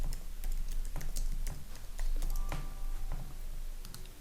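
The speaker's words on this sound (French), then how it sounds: "Et on tape donc son nom et son prénom." Rapid typing on a computer keyboard, close and clear, with irregular bursts of crisp key clicks and short pauses as a name is entered.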